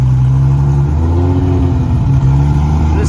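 A single-turbo 2JZ engine swapped into a stripped Lamborghini Gallardo revs loud and close, its steady rumble rising and falling through a short burst.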